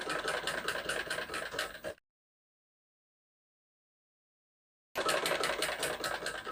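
A sewing machine stitches a blouse slowly, a close, rapid, even mechanical whirr with a rhythmic pulse, which runs for about two seconds, stops in silence, then resumes.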